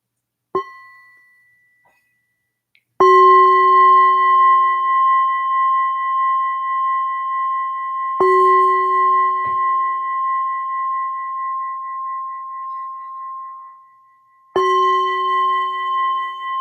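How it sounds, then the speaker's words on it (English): A meditation bell is struck three times at slow, irregular intervals, each strike ringing out clear and sustained with a long, shimmering decay into silence, preceded by a faint light tap. "we'll just start by inviting the bell"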